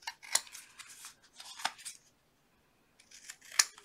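Scissors cutting off excess bulk from material while making a folio, with several close, crisp snips in quick clusters, a brief pause, then one more sharp cut, no voices.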